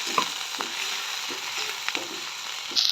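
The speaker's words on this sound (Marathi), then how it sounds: "आता छानपैकी तेलामध्ये करता लसूण आणि हिरव्या मिरचीचा ठेचा" Crushed garlic and green chilli thecha frying in oil over a wood-fired chulha, giving a steady close sizzle with intermittent spatula scrapes and taps and no voices.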